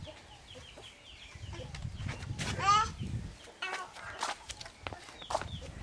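Chickens cluck and a rooster-like call rises on a grandfather's farm in Petrolina, with bird calls and farm animals around, close and fairly loud, while children and adults talk and call out nearby.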